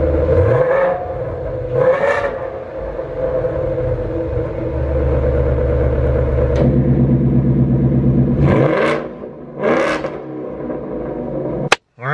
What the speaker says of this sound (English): Let you guys hear how it sounds with this all new system for the 2024 Mustang GTs with active exhaust.